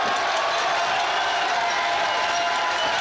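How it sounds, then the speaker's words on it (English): A packed pro wrestling crowd at an AAW event roars after a big double knockdown, a dense, loud wash of cheering and clapping that holds steady throughout without any distinct voice on top. "Listen to this crowd!"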